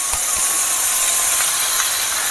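Washed, chopped cabbage dropped onto lightly fried potatoes in a hot pan, giving a loud, steady hiss of sizzling oil with a few soft clunks near the start.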